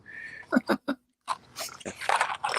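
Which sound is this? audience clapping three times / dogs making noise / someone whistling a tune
dogs making noise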